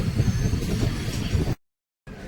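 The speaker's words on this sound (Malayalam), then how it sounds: "അങ്ങനെ കന്യാകുമാരി റെയിൽവേ സ്റ്റേഷൻ എത്തിയിരിക്കുകയാണ്" Rail ambience at Kanyakumari railway station: a steady, loud rumble of train movement and wheel noise, broken by a brief silent gap before the station sound resumes.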